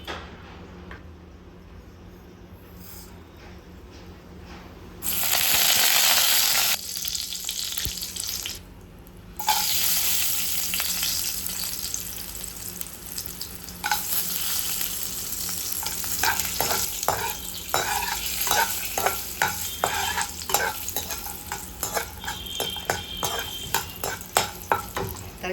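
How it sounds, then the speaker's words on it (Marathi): Peanuts frying in plenty of hot oil in a pan for poha, a steady crackling sizzle with stirring and clinks of a spoon against the pan, joined by a brief rush of running water partway through. "तर शेंगदाणे आपल्याला तेलामध्ये तळून घ्यायचे"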